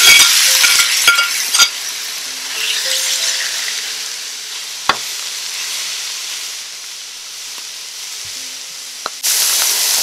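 Steak hisses and sizzles in hot oil for a beef stir fry, a steady crackling fry with a few utensil clinks and a sharp tap, surging louder again near the end.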